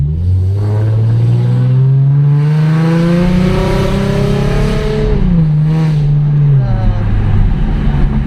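A modified Ford Mustang V6 styled after a Shelby revs up and accelerates hard, engine pitch climbing through gears with a brief drop between shifts, loud and close from inside the car.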